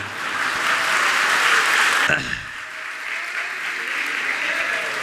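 Audience clapping during a religious discourse by a Jain monk, a dense burst of applause that cuts off sharply about two seconds in, followed by quieter scattered room sound.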